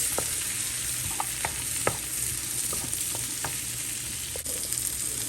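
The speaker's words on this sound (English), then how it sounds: "So we're just gonna toss around the cabbage for about a minute or 2, just to get some cook on it." Shredded cabbage frying in a hot pan for Chinese fried rice, with a steady loud sizzle broken by scattered scraping ticks as it is stirred and tossed, no voices.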